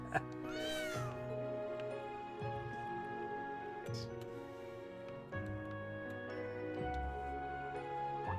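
A cat meows repeatedly in Trails of Cold Steel III, its rising and falling cries standing out over steady game music with a few layered tones.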